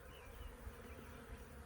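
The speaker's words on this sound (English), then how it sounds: "there is a lot of bees at the bottom of the box still" Honeybees buzzing in a hive box, a dense continuous low hum of many wings, close and steady with no voices.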